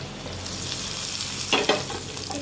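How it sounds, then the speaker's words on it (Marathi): Stuffed green chillies (bharli mirchi) sizzle steadily in a pan, then two clattering bursts come as they are flipped over to cook on the other side; no voices. "आता आपल्याला ह्या सगळ्या मिरच्या पलटून घ्यायच्या आहेत"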